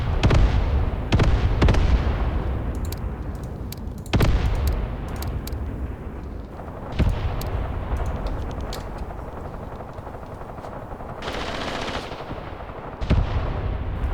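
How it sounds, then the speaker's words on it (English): Mortar rounds of 8 cm calibre land in a barrage during a Graviteam Tactics Mius Front battle, giving loud booming blasts at irregular intervals that roll into long rumbling decays, with sharper cracks between them. "They are only 8 cm mortars, so not the super heavy stuff."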